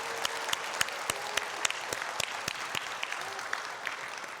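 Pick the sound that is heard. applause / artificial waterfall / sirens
applause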